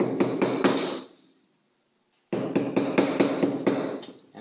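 A metal milk pitcher of steamed milk is rapped against a counter to pop bubbles. Two rapid bursts of about five hard, close knocks each, separated by a short silence.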